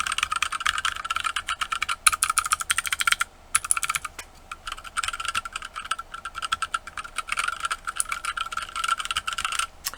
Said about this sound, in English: these are double shot thin ABS DSA caps, just so you guys know what you're listening to